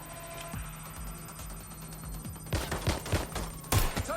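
Gunfire in the Watch Dogs Legion video game, a cluster of sharp shots and crackling bursts arriving near the end over a steady hum of game ambience and music.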